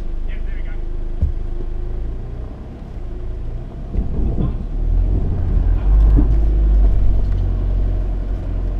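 Toyota Prado 150 four-wheel drive crawling forward over an off-road obstacle, a steady low engine rumble that builds and strains louder midway, with people talking over it.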